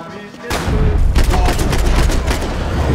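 Heavy gunfire in Max Payne 3, a sudden loud burst of shots opening into dense, continuous rattling fire with booming impacts that fill the rest of the moment.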